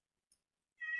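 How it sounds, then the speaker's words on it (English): A hungry cat meows once indoors, a single short, faint meow after a tiny click, with no talking. "you can probably hear my other cat is driving me crazy right now because she wants food"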